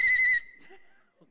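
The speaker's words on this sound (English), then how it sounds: "And by the way, the whistle works." A 3D-printed plastic whistle gives one short, loud, shrill blast in a library, then a faint trailing tail.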